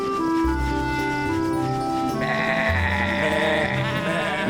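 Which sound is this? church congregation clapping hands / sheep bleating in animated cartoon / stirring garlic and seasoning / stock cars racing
sheep bleating in animated cartoon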